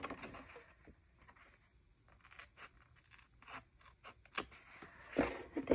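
Scissors snip and trim the small edges of paper pages during a crafting session, a series of quiet close crisp cuts and rustles that grow louder and sharper toward the end.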